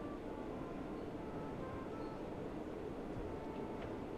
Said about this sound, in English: As loud as it seems, this is very accurate for the Bakerloo line.